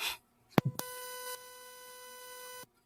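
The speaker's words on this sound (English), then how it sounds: "Okay, what's the beeping noise?" An electronic beep rings out as a steady, sustained tone lasting about two seconds, preceded by a few short clicks and bumps, with no talk over it.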